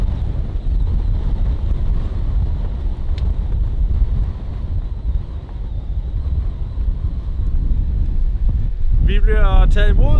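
Strong, blustery wind buffeting a sailboat arriving at Kolding, a loud, continuous roar of wind noise across the microphone for most of the stretch, with a voice beginning to talk near the end.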